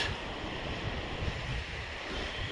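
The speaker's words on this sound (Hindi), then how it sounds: "और ये देखिए नीचे नदी, गहरा ये पानी," Deep, calm river water flowing beneath a bridge in the Garhwal hills of Uttarakhand, heard as a steady broadband wash with low rumble and some wind, continuous and moderately distant, with no talking.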